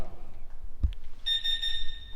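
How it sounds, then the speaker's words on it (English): A single short thump, then a steady high-pitched electronic chirping tone from a Ducati motorcycle alarm that holds for about a second, fairly quiet over low background rumble. "I recently installed the alarm of the bike. So you have this, it's the Ducati alarm."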